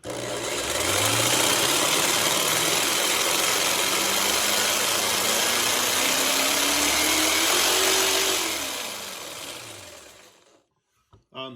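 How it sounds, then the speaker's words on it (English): A Craftsman scroll saw with a variable speed trigger whines steadily for several seconds, its motor pitch rising and then sliding back down before it cuts off. "This is also a variable speed trigger because it is a variable speed saw"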